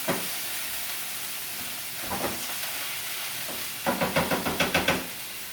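Food frying in a pan over medium heat with chopped kale, a steady hiss of sizzling oil broken by bursts of rapid popping and crackling, ending in a rhythmic run of spits.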